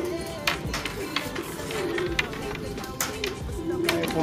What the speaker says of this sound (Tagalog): Ay, pumasok ng mga ibon natin.